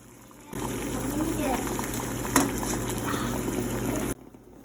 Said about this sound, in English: The water has to be at a hard boil before adding the eggs.